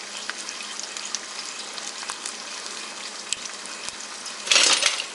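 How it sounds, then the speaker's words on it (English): Sticky rice rolls fry in oil with ginger slices, giving a steady soft sizzle and crackle with scattered pops, growing briefly louder near the end. "zoom in so you can see the oil bubbling under the ginger slice here"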